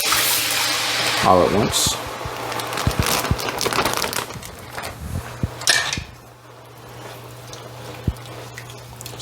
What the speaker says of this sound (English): right into the nice hot pan, we're going to add our meat and all the sauce